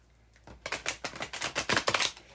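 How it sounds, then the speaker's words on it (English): A deck of tarot cards is shuffled quickly before a full-moon reading, giving a dense flurry of papery riffling and flicking bursts that builds up and holds close to the listener, with no talking. "let me just get these cards shuffled really, really quickly"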